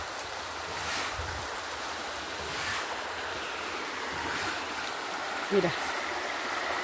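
Rushing floodwater from the overflowing Cravo Sur and Tocaría rivers surrounds a house in a rural area, a steady broad roar of moving water with wind buffeting the microphone and a brief spoken word.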